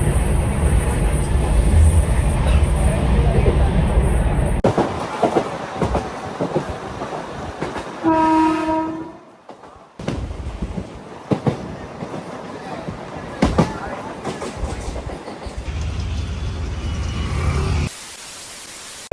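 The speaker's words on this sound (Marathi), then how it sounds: "आज लय खूप दिवसाने ट्रेननी प्रवास" A passenger train rolls along the rails with steady loud rumble and clickety-clack, broken by a brief tonal horn-like sound and a short drop in noise as the carriage continues on.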